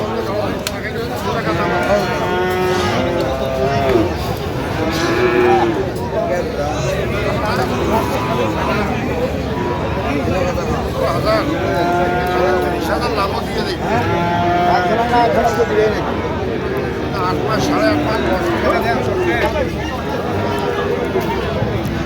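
Sahiwal bull calves mooing repeatedly at a crowded cattle market, loud overlapping lowing calls near and far over a constant murmur of people talking.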